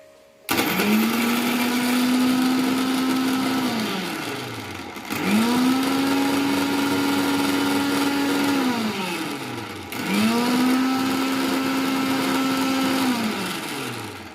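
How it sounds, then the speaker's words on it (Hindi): A mixer grinder grinding ginger and basil leaves runs in three loud bursts, each whirring up to a steady high drone and then winding down before the next. "आप मिक्सी के जार में इसे रख लीजिए और फिर आप इसे पीस दीजिए।"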